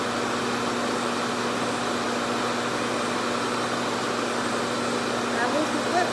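A regular blow dryer runs on someone's hair with a constant, airy whoosh and a faint steady motor hum, holding level for several seconds with no talk over it.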